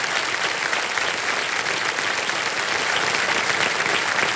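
A studio audience on a televised quiz show breaks into loud, dense, continuous applause for a contestant, a full roar of many hands clapping at once with no pause.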